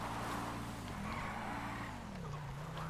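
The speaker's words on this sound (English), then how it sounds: "this cop car can drift" A police car drifting in GTA V Online, its engine droning loud and steady while the tires give a sustained squeal and skid with shifting pitch.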